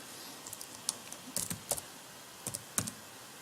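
Quiet, irregular keystrokes on a computer keyboard tap in small clusters, with scattered single clicks and brief pauses between bursts.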